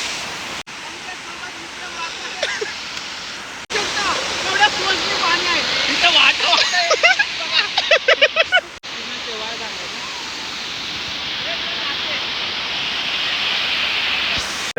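The waterfall at Vihar lake rushes as a steady, broadband roar of falling water, loud and close throughout, with voices chattering faintly in the middle.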